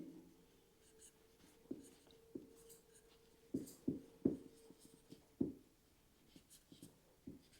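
Chalk or marker strikes a board during a physics lecture on electric field intensity, giving sharp irregular taps and short scratchy strokes over a quiet room.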